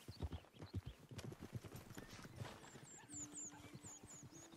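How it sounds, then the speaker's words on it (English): Horse hooves clip-clop in a rhythmic trot in Red Dead Redemption 2, followed by a whinny, with birdsong chirps in the background. "There's another horse over here."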